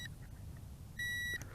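Remote control for a VISUO ZEN K1 foldable GPS drone giving a single clear electronic beep on power-up, a short steady tone over a low background hum, with a fainter chirp just before.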